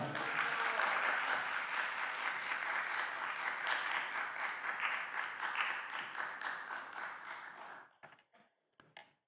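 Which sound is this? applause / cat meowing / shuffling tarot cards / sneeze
applause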